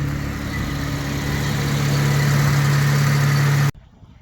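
A 1968 Jaguar MK2 240 with a manual gearbox, overdrive and a stainless steel exhaust idles close by with a steady, deep rumble and a firm low hum, then cuts off abruptly near the end.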